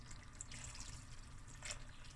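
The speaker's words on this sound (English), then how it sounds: "Add a little bit of water." Water pours steadily into a cooking pot of lamb akhni, a soft continuous trickle with a faint low hum behind it.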